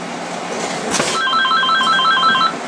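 A telephone rings with a steady electronic trilling tone that repeats across the clip, fairly loud and close, after a brief thump, with no talk over it.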